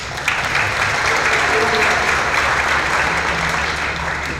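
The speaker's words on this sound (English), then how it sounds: "let's give her a round of applause" A club jazz audience applauds a bass player in a dense, continuous wash of clapping that holds at a steady, fairly loud level throughout, with no talking over it.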